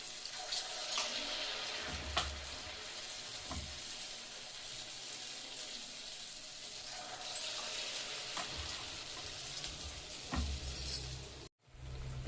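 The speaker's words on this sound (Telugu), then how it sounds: "ఇప్పుడు ఈ రంగు వచ్చే వరకు వీటిని ఇలా నూనెలో వేయించుకోవాలి." Punugulu, crisp batter fritters, sizzle as they fry in hot oil, a steady dense hiss that runs almost without a break, with a few soft low knocks and a brief drop near the end.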